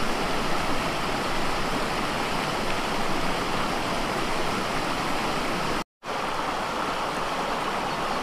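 Water rushing over stones under a bridge in Shantiniketan, a steady broadband roar heard up close, continuous and unbroken apart from a split-second dropout.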